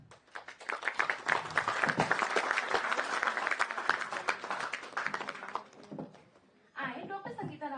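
Large audience at a National Mathematics Day event applauding to welcome guests, sustained loud clapping for about six seconds that fades out, followed by a voice speaking.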